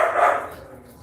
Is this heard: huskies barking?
yes